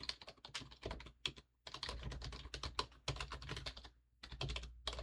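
Quick keystrokes on a computer keyboard type code into the Nano text editor, coming in rapid clattering bursts with short pauses between them. The keys sound close and clear, with no talking.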